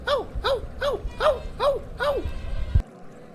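A person imitates a dog barking, giving six evenly spaced, yelping woofs close by in a steady rhythm before stopping abruptly, in a Hindi-dubbed film scene.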